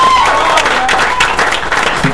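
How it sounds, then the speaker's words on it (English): Applause from a live rock concert audience at a radio station performance theatre follows an acoustic song by a band. The dense, steady clapping lasts about two seconds, with some crowd noise underneath. "So a round of applause for that."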